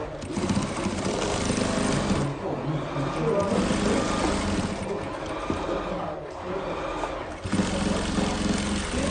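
A sewing machine stitches the edges of a decorative pillow together, a continuous close mechanical hum with a rapid needle rhythm, with talking over it.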